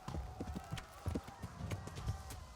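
In Kingdom Come: Deliverance, a horse trots with a steady, rhythmic clip-clop of hooves, fairly close, for a couple of seconds over a faint background.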